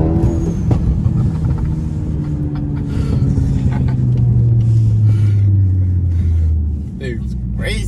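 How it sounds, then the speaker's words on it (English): Stage 2 Audi A3 with an aftermarket exhaust (not a straight pipe) droning loudly and steadily from close range as the engine note slowly falls, with people talking over it. "this car has boiler exhaust system on. It's not a straight pipe, but it sounds amazing."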